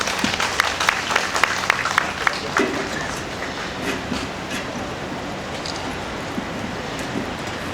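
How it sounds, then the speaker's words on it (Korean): Steady applause from an audience at a memorial ceremony for COVID-19 and vaccine victims, a dense continuous clatter of clapping with a few sharper claps near the start, holding at an even level throughout. "큰 박수 바랍니다."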